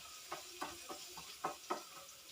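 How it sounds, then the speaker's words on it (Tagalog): Garlic sautés in a pan reused from frying carrots and potatoes for chicken afritada, a soft steady sizzle broken by a few gentle stirring scrapes, quiet and close with no talk. "doon ko na igigisa yung aking bawang"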